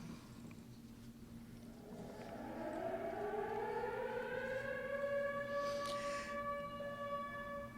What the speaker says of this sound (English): just as the ferry building siren was announcing 8 o'clock to downtown San Francisco, I got Rembrandt on the phone